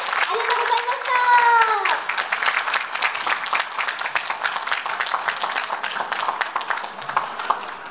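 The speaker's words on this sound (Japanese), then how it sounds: "皆様、大きな拍手お願いいたします。" Audience applause at a community talk about dementia, a dense steady clapping from a seated crowd that holds throughout, loud at first with a host's voice briefly over the opening.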